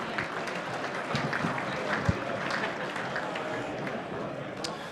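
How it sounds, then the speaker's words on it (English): Audience applause for a youth football Division 2 Team of the Year at a Chandler Medal awards night, a steady wash of clapping with scattered sharp claps and murmuring voices throughout. "A round of applause for our SEN Division 2 Team of the Year."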